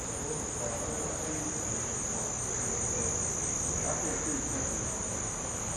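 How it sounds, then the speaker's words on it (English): Crickets and other insects chirp steadily through a dark night after a hurricane, a continuous high-pitched trill filling the air with no other sounds standing out. "Only the insects and sounds of people chattering in the dark would cut through the night."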